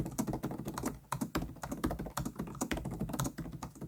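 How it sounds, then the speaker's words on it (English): Steady, brisk typing on the plasticky keys of an MSI Katana 15 HX gaming laptop with a 4-zone RGB backlit keyboard, a close, continuous run of light clacks and taps with no talking. "here's how it types"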